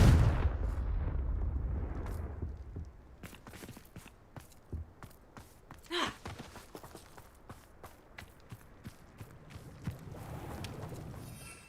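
Confringo fire spell explosion in a Harry Potter video game: a sharp blast at about six seconds over rumbling game sound, with scattered footsteps and thuds around it.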